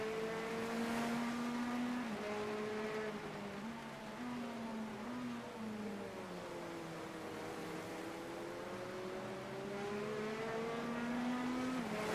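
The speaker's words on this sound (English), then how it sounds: "it sounds like being in a car in real life on a motorway or whatever at high speed and rain" Steady engine drone of a car at high speed in heavy rain in a racing game at Bathurst, with tonal whines rising and falling and a constant rain hiss underneath, no talking.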